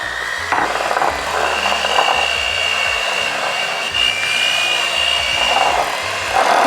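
Electric mixer beating cream cheese for mini cheesecake cups, a loud continuous motor whir with a grinding low chatter that shifts in pitch as the beaters move through the bowl.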